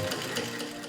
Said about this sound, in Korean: 손재봉틀 솜씨는 지금도 변함이 없습니다